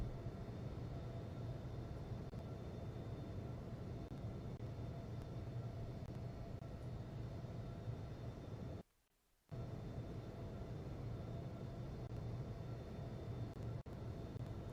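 An airliner takes off in the Infinite Flight simulator, a steady faint engine roar with a constant whine, briefly cutting out to silence before resuming evenly.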